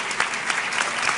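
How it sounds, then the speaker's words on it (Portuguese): Audience applause during a creativity class as a collaborator stands to be recognised; brisk, dense clapping from a room full of people, close and lively for the whole moment. "Pode aplaudir."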